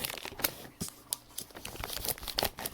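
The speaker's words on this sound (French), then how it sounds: "je commence à couper avec les ciseaux" Scissors snipping through crinkly plastic packaging in a kitchen, with a string of sharp crackling cuts and rustles close by, no talking.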